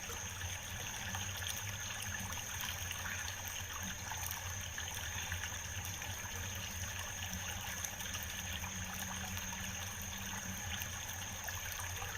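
Creek water trickles steadily and faintly near a small waterfall, a constant low wash of flowing water with no voices over it.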